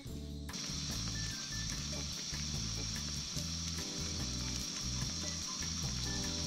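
An egg omelette frying in a pan, with a faint steady sizzle and crackle starting abruptly and continuing under a low rhythmic hum, and no voices.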